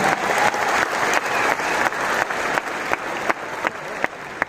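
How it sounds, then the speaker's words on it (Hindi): An audience at a goal-setting seminar and anniversary event applauds in steady, loud clapping that fills the room, with rhythmic pulses and a few sharp individual claps as it tapers toward the end. "ताली जोरदार वाली बजा लीजिए"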